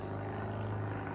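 An airplane passes overhead, a steady low droning rumble that holds evenly throughout, fairly faint and distant with no talk over it.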